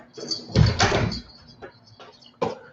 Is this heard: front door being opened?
yes